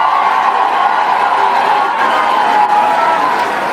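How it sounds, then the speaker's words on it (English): Crowd at a political rally, a dense continuous wash of cheering, chatter and scattered laughter, loud and sustained throughout. "the crowd is also laughing and cheering that they're at the wrong rally"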